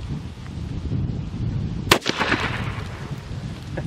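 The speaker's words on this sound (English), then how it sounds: "Number 4 shot against a shaving cream bottle." A single sharp blast from a shotgun converted to a muzzle loader firing number 4 shot at a shaving cream bottle outdoors, one loud close report with a short rushing tail over steady background noise.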